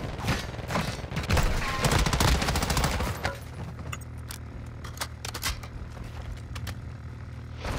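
Video game gunfire cracks out in loud, fast bursts early on, then thins to scattered sharp shots over a steady low hum.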